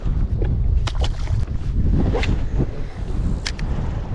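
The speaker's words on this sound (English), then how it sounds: "Ah, wind." Wind buffets the microphone outdoors while bass fishing from a boat, a steady rumbling gusty roar with a few sharp knocks and splashy bursts.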